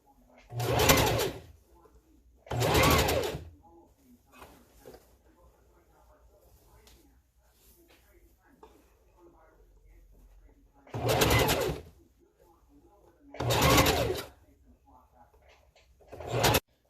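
A sewing machine stitches a wig track onto a closure in five short loud bursts of rapid mechanical chatter, each a second or so long, separated by quiet pauses with soft handling sounds nearby.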